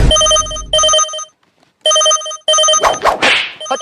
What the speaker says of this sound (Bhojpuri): केकर फोन आ रहलो